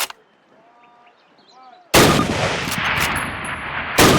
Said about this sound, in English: fire 2 rounds at your target while aiming down your sight